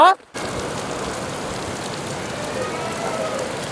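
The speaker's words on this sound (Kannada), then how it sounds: "ಮಳೆ ಜೋರಾಗ್ತಾ ಉಂಟು ನೋಡಿ, ಇಲ್ಲಿ ಎಷ್ಟು ಮಳೆ ಬರ್ತಿದೆ ಅಂತ." Heavy rain pours steadily onto an open ground, a dense, even hiss of drops that starts after a brief dropout and continues unbroken and close.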